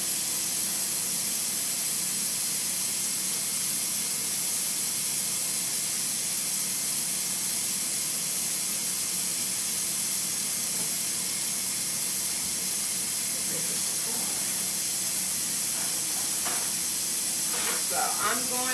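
A pressure cooker venting steam, a steady loud hiss that continues unbroken, with faint sounds of activity toward the end.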